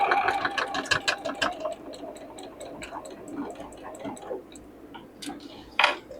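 A home sewing machine stitches a cross into fabric for a circle bag, a steady fast ticking run of needle strokes that slows and stops near the end, followed by a few faint clicks.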